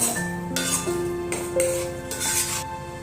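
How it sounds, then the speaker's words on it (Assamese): A spoon stirs chicken pieces into spice masala in a pot before the gas is lit, giving repeated metallic scrapes and clinks against the pot that ring briefly, close and steady, with no speech. "মাংসখিনি দি ভালদৰে লৰাই দিব"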